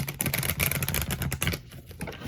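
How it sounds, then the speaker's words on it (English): A tarot card deck is shuffled in quick, dense riffling bursts of papery flicks and taps, close and fairly quiet, with a short pause near the end. "Let me shuffle it again"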